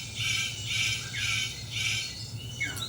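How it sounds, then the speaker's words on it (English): A superb bird of paradise gives a series of harsh, buzzy squawking calls, about four evenly spaced rasping bursts, close and loud over a low background hum. "The superb bird of paradise calls to attract the female."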